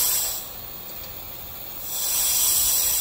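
A Fisher 4160 pneumatic pressure controller nozzle hisses with escaping air during alignment, a loud close broadband hiss that dips briefly in the middle and then swells again.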